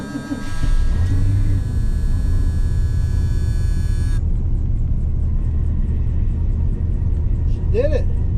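A 1981 Chevrolet Silverado engine cold-starting on an icy morning: a loud, steady, deep idle rumble running throughout, with a high whine layered over the first half before it drops away.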